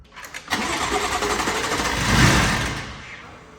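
A BMW F80 with a freshly built engine cranks over on a start attempt, a few seconds of close, rough mechanical churning that swells briefly before fading.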